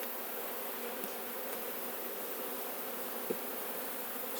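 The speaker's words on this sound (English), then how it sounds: "there's more bees flying around looking for honey" Honeybees in a backyard hive in Piedmont, with a steady, dense buzzing of many insects flying close by, continuous throughout with no talk.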